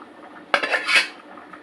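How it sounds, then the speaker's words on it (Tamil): Cooked lentils are poured into a pot for sambar rice with a single sharp metallic clank, followed by a short wet slosh and rattle, close and loud, with no talking. "நம்ம வேக வச்ச பருப்பு எடுத்து நம்ம ஊற்றிடலாம்."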